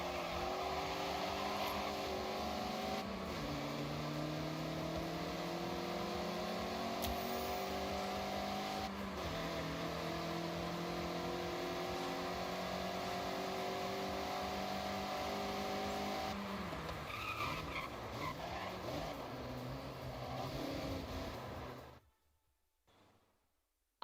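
A Mazda MX-5 in Forza Horizon drifts sideways through corners, its engine revving and wavering continuously with gear changes, loud and close, before cutting off abruptly near the end.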